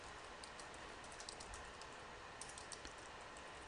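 Keys on a computer keyboard are tapped in a light, irregular typing patter, faint and close beneath a steady background hiss.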